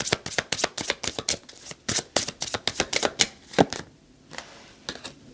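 Tarot cards being shuffled by hand, a quick run of crisp riffling bursts in steady rhythm, close and fairly loud, with a short pause near the end before a few more shuffles.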